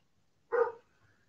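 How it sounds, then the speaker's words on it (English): A dog gives a single short bark at some distance, faint against a quiet room, heard once with silence before and after. "The dog is barking."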